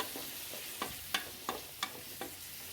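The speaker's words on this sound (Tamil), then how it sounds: "இப்போ நல்லா வதங்கட்டும்." Mutton liver, washed with turmeric, is sautéed in a pan, giving scattered, close stirring scrapes and soft sizzling that arrive as roughly five distinct strokes over a quiet background.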